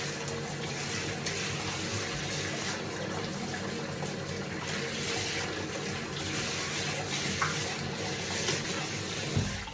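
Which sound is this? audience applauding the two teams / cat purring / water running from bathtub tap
water running from bathtub tap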